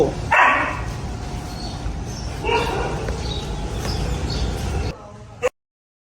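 Dogs at a stray dog shelter on the Burapha University campus, with two short barks rising out of a steady noisy outdoor background and faint bird chirps.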